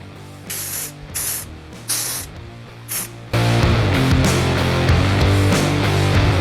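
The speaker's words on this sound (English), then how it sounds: "I'm gonna spray a little bit of texture spray in there." Texture spray misted into hair during a barber's drop fade, heard as four short hissing bursts in a rhythmic series, near and fairly loud, before louder background music swells.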